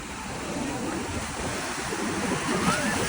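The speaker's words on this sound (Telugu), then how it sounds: "నైట్ టైంలో వేవ్స్ ఎక్కువ వస్తాయని అన్నారు, కానీ నిజంగా చాలా డేంజర్గా వస్తున్నాయి వేవ్స్" Ocean surf at Puri beach on the Odisha coast at night, a steady broadband roar of breaking waves with wind noise, fairly loud and continuous, building slightly toward the end.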